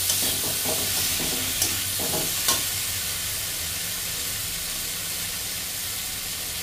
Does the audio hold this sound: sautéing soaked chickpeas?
yes